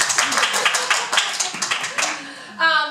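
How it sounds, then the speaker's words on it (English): Clapping from an audience at a marimba and flute recital, a dense burst of many hands lasting a couple of seconds before a voice starts speaking. "So I think at this point we'd like to give you a round of applause."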